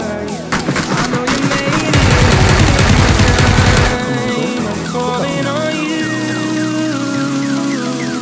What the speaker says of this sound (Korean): 쟤는 왜 이렇게 총소리가 커?